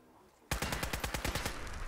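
Enemy fire in Fallout 4 erupts abruptly into a fast, loud burst of automatic shots, about a dozen sharp cracks in rapid rhythm that trail off into a lingering rumble.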